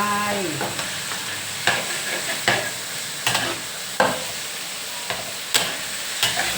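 Large shrimp hitting a hot pan with soft tofu and mixed vegetables, a steady close sizzle broken by sharp spatula scrapes and clanks every second or so.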